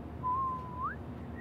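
A single person whistling one sustained note that slides upward at the end, clear and close, with a quiet hum underneath, from the video game Life is Strange.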